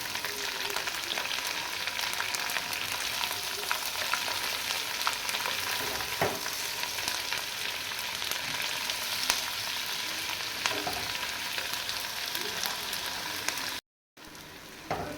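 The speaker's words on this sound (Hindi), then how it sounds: "बड़े साइज़ के 3 से 4 अदद प्याज काटे हमने लंबे लंबे स्लाइसिस में। इसको हल्का ब्राउन पकाएंगे।" Long-sliced onions fry in a pan for a dhaba-style karela pyaz, a steady dense sizzle with soft stirring scrapes, close and even throughout before a brief dropout near the end.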